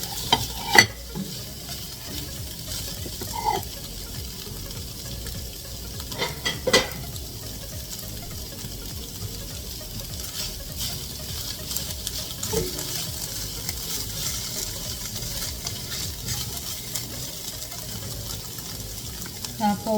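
Pieces of milkfish fry in a pan for bangus sisig while being stirred. A steady sizzle runs throughout, with scraping stirs and occasional clatters, close and moderately loud.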